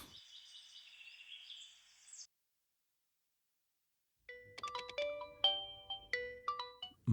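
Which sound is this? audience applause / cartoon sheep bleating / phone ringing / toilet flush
phone ringing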